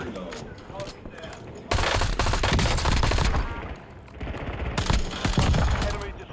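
Gunfire in a shooter video game, loud sustained bursts of rapid automatic fire with mechanical clatter, pausing briefly before another volley, while a voice talks over the action.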